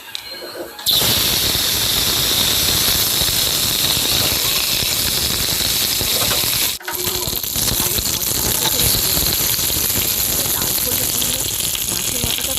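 Loud, continuous sizzling of a fish head rubbed with salt and turmeric frying in hot oil in a wok, steady throughout after an abrupt start, with one brief dip midway.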